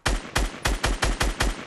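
Gunfire in Fortnite rings out as seven loud, sharp shots fired in quick, evenly spaced succession, each with a heavy low thump, close and alone without any talk.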